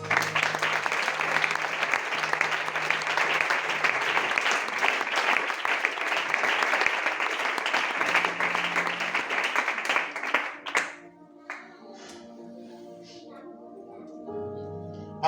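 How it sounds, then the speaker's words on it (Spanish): A Spanish-speaking congregation bursts into loud, sustained applause during a church sermon. The clapping stops abruptly near the end, and soft tonal instrumental sounds follow. "Dale un fuerte aplauso al Señor."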